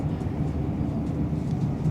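Steady low rumble and rattle inside a passenger train carriage travelling toward London King's Cross, a continuous dense drone without speech.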